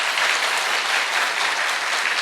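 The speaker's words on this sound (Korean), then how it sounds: "박수로 격려해 주시기 바랍니다" A church congregation applauding in encouragement during a worship service, a loud, even sustained clatter of many hands with no gaps throughout.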